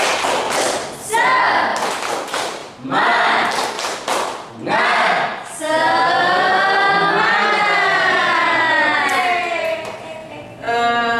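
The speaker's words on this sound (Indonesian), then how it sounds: "Ibu bilang tepuk semangat." A school class performs a rhythmic "tepuk semangat" clapping chant, bursts of sharp, loud claps alternating with children's voices chanting in unison, the chanting growing longer and more sustained toward the end.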